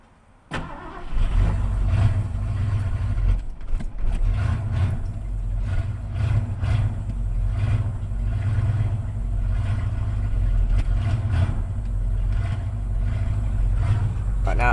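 A 1980 Ford F100 pickup with a 302 V8 cranks over on a cold start, catches right away and then settles into a steady, loud, rumbling idle.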